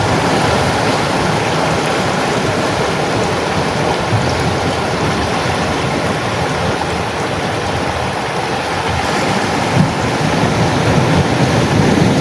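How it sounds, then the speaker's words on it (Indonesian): Ocean waves crashing high up onto the shore, a continuous loud roar of surf with wind buffeting the microphone, and no voices. "Ombak sampai ke atas sini ya sahabat-sahabat ya, ombak sampai ke atas."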